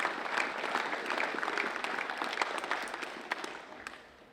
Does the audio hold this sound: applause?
yes